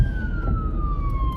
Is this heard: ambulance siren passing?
yes